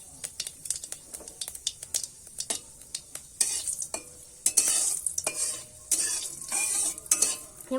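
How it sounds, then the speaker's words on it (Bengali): Asafoetida and cumin seeds spit and sizzle in hot oil in a pan, close by. Sharp crackles and pops come in quick bursts, then build into denser, louder frying with a utensil scraping now and then. "তেলটা গরম হয়ে গেছে আমি একটু হিং দিয়ে দিলাম আর সাদা জিরে ফোড়নে দিয়ে দিলাম"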